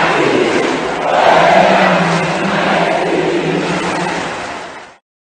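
A huge crowd of young people at a stadium gathering with the Pope, shouting together in a loud, sustained roar that swells and holds for several seconds before cutting off abruptly.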